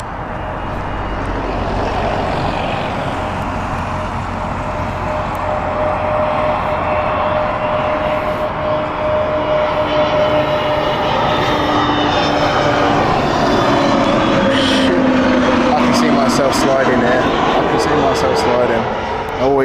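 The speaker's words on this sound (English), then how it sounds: "Inbound next is the Amsterdam flight from British Airways." A British Airways flight from Amsterdam landing at Heathrow, its engines rising into a loud, sustained roar with whining tones that sweep and shift as the aircraft passes close by.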